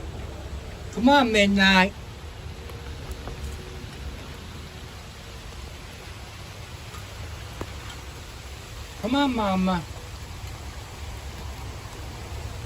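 Steady rain falling outside by a porch, a continuous close hiss of drops on surfaces running throughout, with two short calls from a person's voice breaking over it.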